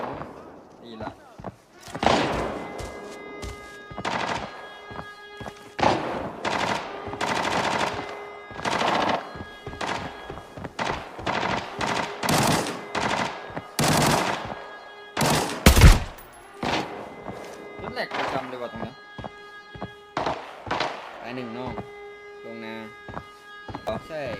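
Rapid automatic bursts from an AR-57 rifle in the shooter game Arena Breakout, sharp repeated volleys spread across the whole stretch amid other game noise, with a player talking over much of it.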